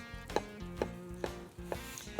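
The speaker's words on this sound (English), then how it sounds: "And I'm chopping across the grain." A knife chops smoked suckling pig meat across the grain on a board, with about five evenly spaced, close, fairly soft thuds over a low background hum.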